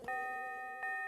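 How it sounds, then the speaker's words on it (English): A chiming bell rings in the Animal Crossing Wild World video game, two bright electronic tones struck about a second apart, each sustaining cleanly and fairly quietly. "it sounds really weird when the bell rings."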